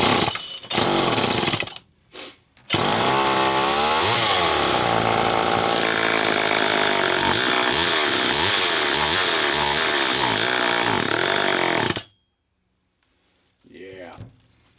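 A Homelite Super EZ chainsaw engine roars loud and close for about ten seconds, its pitch rising and falling as the throttle is worked, then cuts out abruptly, leaving near silence and a faint brief sound at the end.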